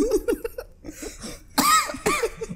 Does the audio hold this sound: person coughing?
yes